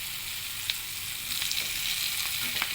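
Pork pieces frying in a hot pan make a steady, close sizzle with faint pops and crackles scattered throughout, heard alone without any talk.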